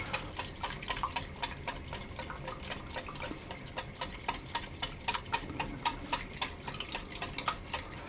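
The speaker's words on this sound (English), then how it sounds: "I'm going to whisk the whole time" Whisk clicking steadily against a bowl of lemon tart filling set over simmering water, a brisk rhythmic series of light metallic ticks at close range with no talking.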